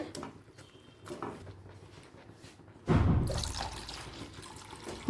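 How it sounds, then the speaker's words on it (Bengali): Water is poured into a pot of cooking moong dal. After a quiet simmering start, a sudden loud rush of pouring liquid begins midway and carries on to the end. "জল দিয়ে একটু বাড়িয়ে নিচ্ছি"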